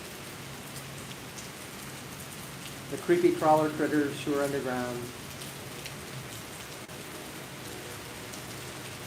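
Steady rain patters outdoors in a central Ohio metro park, a soft continuous hiss that carries on beneath a person speaking briefly in the middle.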